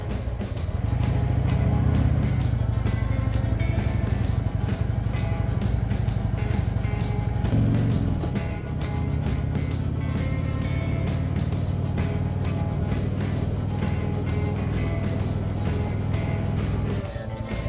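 A motorcycle on a ticket-giveaway run, its engine droning steadily and loud throughout, with a brief dip and a change in engine note around the middle as it shifts or slows.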